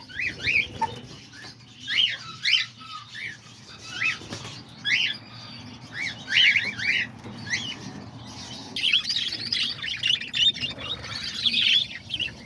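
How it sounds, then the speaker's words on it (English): Pet lovebirds, parakeets and diamond doves chirp busily at close range, a dense run of quick high tweets and chatter in bursts throughout, with no talking over them. "Check out the Lovebirds and check out the Parakeets as well."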